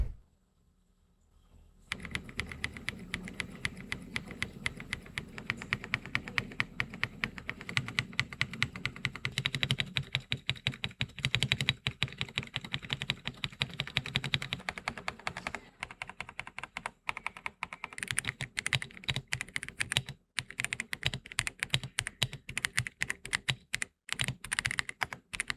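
Rapid typing on an Apex 400 keyboard, a continuous stream of close, crisp keystrokes for over twenty seconds with brief pauses, heard alone.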